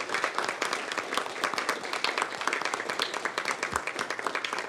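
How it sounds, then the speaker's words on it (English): A board of supervisors meeting audience gives a dense, steady round of applause with many hands clapping together. The sound is fairly close and fills the whole stretch without letting up. "we got to give you some applause for that"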